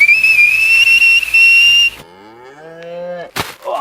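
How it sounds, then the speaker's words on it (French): A cow moos loudly and close, a long wavering low call that follows a shrill steady whistle-like tone and ends with a sharp burst of noise. "Et oui, c'est une vache volante."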